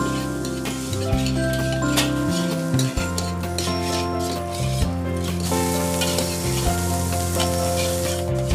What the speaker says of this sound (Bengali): এরপর কাটা মাশরুমগুলো দিয়ে আরও ভাজতে থাকবো